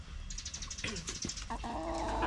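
Chickens clucking in a backyard garden, short scattered calls that grow clearer and more tonal toward the end over a steady low background hum.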